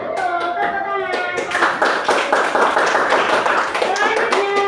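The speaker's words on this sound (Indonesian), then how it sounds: "Betul, tepuk tangan." Children clapping hands together in an elementary school classroom, a series of sharp rhythmic claps at close range, with voices and a tonal sound mixed in at the start.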